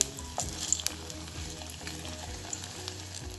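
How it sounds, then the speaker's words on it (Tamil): Batter-coated onion slices for onion bhaji fry in hot oil, giving a continuous close sizzle with a crackling, bubbling texture and occasional small pops. "மாவை ஆனியன் மேலே அப்ளை பண்ணி ஆயிலில் போட போகிறேன்"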